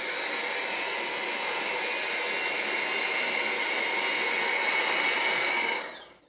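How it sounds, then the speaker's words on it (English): An electric hand mixer beats pumpkin pie filling at steady speed, a continuous close whirring motor drone that holds level for about six seconds and then cuts off at the end. "we're going to go ahead and beat this for 3 minutes until you get a smooth consistency"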